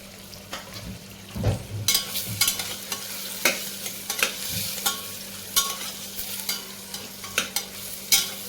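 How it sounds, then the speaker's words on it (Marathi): Chopped carrot stir-fries in hot oil for Maharashtrian masala bhat, with a soft continuous sizzle and repeated scraping, clattering stirs of a spoon against the pan, close up and fairly quiet. "त्यानंतर आपण त्याच्यामध्ये चॉप केलेलं गाजर टाकून घेऊया"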